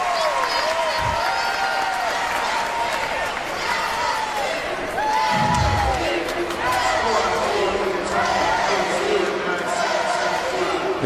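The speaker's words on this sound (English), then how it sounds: "The crowd is so crazy" Loud crowd noise fills an LSU gymnastics meet against Kentucky after a balance beam routine, a steady roar of cheering and applause that holds throughout, with a commentator's voice running over it.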